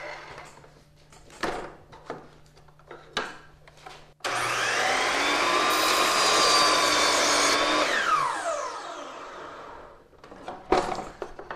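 A miter saw cuts through a wooden piece: a few knocks and handling clatters, then the motor whines up loud and close, grinds through the wood for several seconds and spins down, followed by more clunks.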